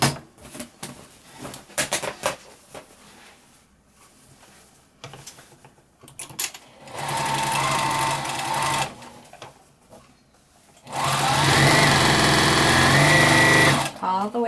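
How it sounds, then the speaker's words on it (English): A sewing machine stitches quilt borders together in two loud, sustained runs of rapid whirring, with a person talking in the quieter stretches before and between them. "we're going to sit down at the machine and sew them together"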